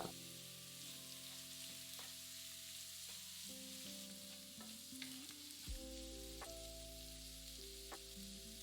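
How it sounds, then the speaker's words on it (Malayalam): Vegetables and scrambled egg sizzle and crackle in a pan over medium-high heat for egg fried rice, with steady frying hiss and occasional scraping stirs, close and continuous. "ഇത്രയും ചേർത്ത് മീഡിയം ഹൈ ഫ്ലെയിമിൽ 1 മിനിറ്റ് വഴറ്റുക"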